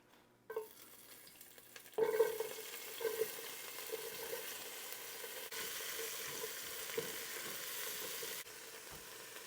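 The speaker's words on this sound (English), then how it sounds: "So I'm just going to saute these in that bacon grease until the onion is tender." Leeks and onion sautéing in bacon grease in a soup pot for Irish cabbage and bacon soup, a steady close sizzle that jumps louder as the vegetables hit the fat, with occasional stirring scrapes.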